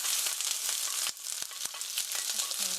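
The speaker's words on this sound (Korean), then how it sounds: "양파와 마늘이 노릇노릇 브라운 색깔이 될 때까지 볶아주세요." Sliced onion and garlic frying in hot oil, a bright close sizzle with a brief dip and repeated sharp stirring clicks, no voices present.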